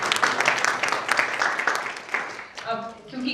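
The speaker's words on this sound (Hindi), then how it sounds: "जी, तालियां तो होनी चाहिए।" Audience at a Hindi-Punjabi poetry gathering clapping in a dense burst that fades after a couple of seconds, with a voice speaking over the tail end.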